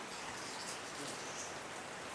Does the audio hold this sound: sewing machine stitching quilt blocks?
no